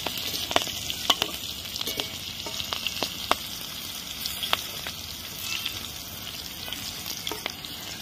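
Slit green chillies sizzle in hot oil in a pan, a steady bright frying hiss with scattered sharp pops and spatters throughout, close and fairly quiet with no voices.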